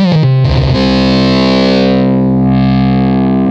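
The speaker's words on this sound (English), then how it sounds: "if you want to turn that into a distorted guitar or a lead guitar, so all you need to do is just come to the distortion" Roland synthesizer lead patch with the distortion effect switched on, a loud, sustained, buzzing distorted tone that opens with a few choppy notes and then holds one long note, with no talking.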